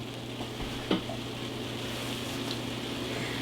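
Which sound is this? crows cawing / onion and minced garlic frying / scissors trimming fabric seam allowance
onion and minced garlic frying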